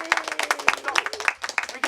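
Brief applause for a volunteer named Balthazar at the Mystery Spot attraction in Santa Cruz, California, a small group clapping in quick uneven bursts, fairly close but light, lasting under two seconds.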